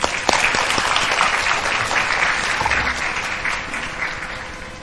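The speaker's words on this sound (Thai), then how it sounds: "ขอเสียงปรบมือต้อนรับคุณ Manolo ด้วยค่ะ" A seminar audience gives continuous applause to welcome a speaker, a dense clapping wash that starts strongly with a few sharp claps up front and tapers slowly toward the end.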